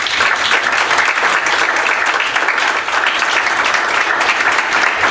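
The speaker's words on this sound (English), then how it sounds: "You'll join me just real quick in a round of applause" Sustained audience applause at a Norman city council candidate forum, a dense, steady clapping from a crowd lasting throughout without pause.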